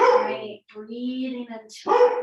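A pet dog in a house gives a short burst of barking and whining yelps between a woman's calm spoken instructions.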